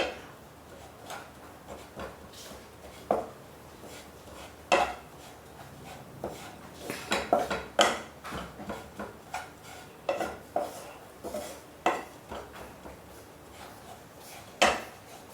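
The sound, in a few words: stirring and roasting besan masala in a pan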